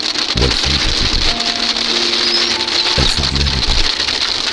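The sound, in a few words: rain falling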